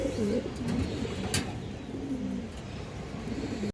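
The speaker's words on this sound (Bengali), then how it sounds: "আমার বাসায় একটা বিডার লাল মুসলদম নর কবুতর আছে" Domestic fancy pigeons coo nearby in soft, repeated throaty phrases, several calls overlapping at moderate loudness, with one sharp brief knock partway through.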